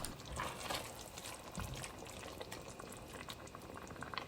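Chili mixture simmering in a pot bubbles softly and faintly, a low irregular blub and gurgle with scattered small pops over a quiet background, no voices.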